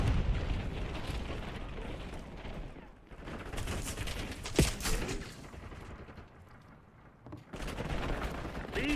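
A frag grenade explodes amid sustained gunfire in a multiplayer shooter video game, a loud burst among continuous battle noise with rumbling blasts.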